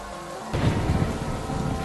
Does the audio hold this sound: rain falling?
yes